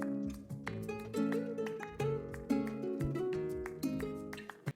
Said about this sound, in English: which is just like a simple guitar sample with like a bit of claps